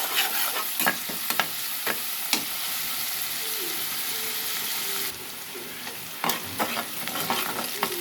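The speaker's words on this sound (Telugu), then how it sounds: "ఒకసారి కలుపుదాం ఫ్రెండ్స్. ఎర్రగా అయిందా కలుపుకుందాం." Prawn curry fries in a pan while a spoon stirs it, giving a continuous sizzle broken by sharp scraping strokes against the pan that come in clusters near the start and again toward the end.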